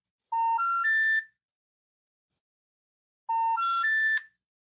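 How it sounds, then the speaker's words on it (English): The US telephone trouble signal used by phone companies plays twice, each time a clean three-step rising electronic tone sequence lasting about a second, separated by roughly two seconds of silence. "That's a United States trouble signal that all telco companies use."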